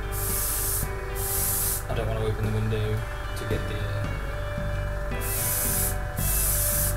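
An airbrush sprays primer onto a Furioso Dreadnought miniature in loud hissing bursts, strongest at the start and end with a pause in the middle, while a voice talks over it and a steady low hum runs underneath.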